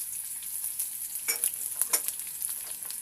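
Onion, dried chilli and curry leaves crackle in hot oil for a tempering, a bright steady sizzle with a few sharper spits and pops in the middle.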